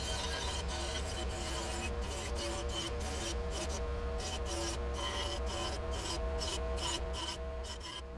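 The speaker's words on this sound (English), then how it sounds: "So, well, let's go and start grinding." Power grinder working on old welds on an Austin Healey exhaust pipe, a steady close rasping whine broken by short rhythmic interruptions as the tool is pressed and lifted, with no talk over it.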